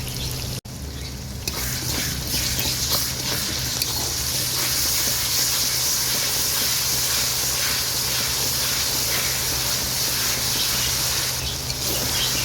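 Ginger and garlic paste dropped into onions already frying to light brown in hot oil, giving a steady, loud sizzle and hiss that runs unbroken throughout.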